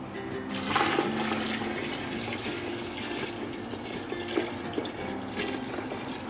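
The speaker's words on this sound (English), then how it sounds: "I'm gonna go ahead and add the broth." Broth pours into a pot for gumbo in a home kitchen, giving a steady, close liquid gush and splash that runs for several seconds without a break.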